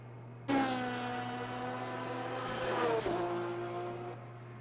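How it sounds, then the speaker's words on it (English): A GT3 race car engine in the rFactor 2 racing game closes in during a 24-hour Le Mans endurance race. The loud, sustained harmonic whine rises and holds, and a pitch shift comes about three seconds in. "Okay, so I hear another engine. So he's approaching a car. I think it's a GT3 car."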